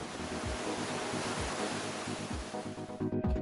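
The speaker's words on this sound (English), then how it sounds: "They roll in and crash up the side and over the cliffs." Ocean surf at Steep Point rolling in and crashing against the cliffs, a loud steady wash of breaking water with wind buffeting the microphone and heavier surges near the end.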